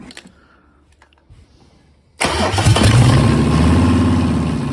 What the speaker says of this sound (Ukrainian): гріємо свічки і запускаємо